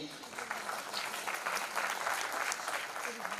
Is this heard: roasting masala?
no